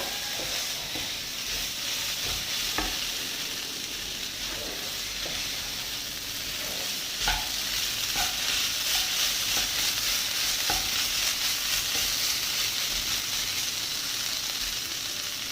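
Potato thoran with garam masala is stirred in a hot pan, an even hissing sizzle that carries throughout, with scattered spoon scrapes and taps against the pan.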